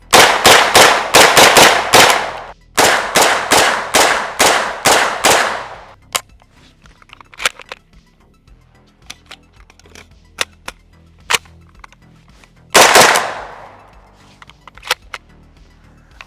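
Turkish-made MP5 submachine gun clone firing sharp, loud bursts of rapid shots, two long strings followed by scattered single cracks, one more short burst and a few sporadic shots at the end.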